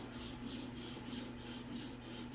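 Tops Wild Pig Hunter fixed blade knife scrubbed back and forth on a Tsprof K03 sharpener, a steady, close rhythmic grinding rasp with no talking.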